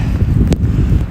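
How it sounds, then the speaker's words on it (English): Wind buffets the microphone on a snowy running route, producing a loud, low, continuous rumble with one brief gusty burst near the middle. "That wind is what's killing me right now."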